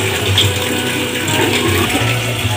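A heavy-duty pressure washer sprays water steadily and loudly, with a continuous hissing rush over a low motor hum lasting throughout.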